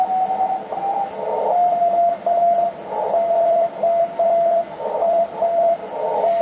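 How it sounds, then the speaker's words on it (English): Hiss and crackle on an amateur radio CW band, a steady noisy wash with a thin Morse tone keying on and off through it, fairly loud and continuous. "now there's an awful lot of noise on this band"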